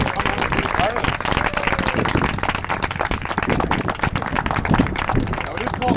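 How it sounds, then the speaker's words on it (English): A crowd gathered outdoors for a Pride flag raising in Grand Falls-Windsor, Newfoundland, claps in a loud, close, crackling round of applause, with voices mixed in throughout. "let's give everyone a round of applause for coming out and being part of this"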